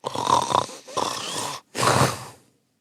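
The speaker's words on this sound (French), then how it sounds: "La maison résonna de ses ronflements." Three heavy, raspy snores in a row, each a rough drawn-out breath with brief pauses between, close and fairly loud.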